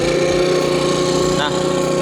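A Firman FBV70 blower vacuum engine runs loud and steady at close range, a constant buzzing drone that holds without a break.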